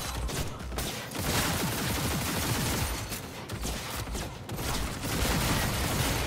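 Sustained gunfire in the video game Cyberpunk 2077, rapid bursts of shots rattling almost continuously through the whole stretch, loud and dense with little pause.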